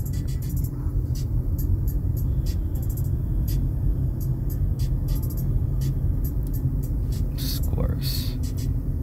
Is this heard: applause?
no